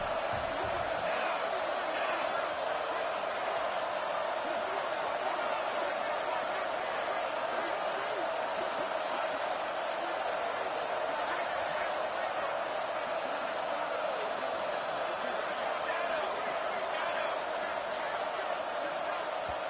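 Stadium crowd in the College Football 26 video game, a steady loud roar of thousands of fans that holds at constant intensity throughout, with a play-by-play commentator's voice running over it.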